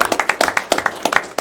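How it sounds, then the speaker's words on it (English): An audience at a township board meeting claps for a police director, a scattered round of distinct hand claps at moderate distance, sparse and uneven rather than a full roaring ovation. "if we can give a round of applause to the director"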